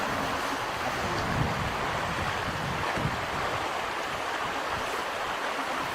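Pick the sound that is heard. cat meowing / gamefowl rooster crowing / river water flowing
river water flowing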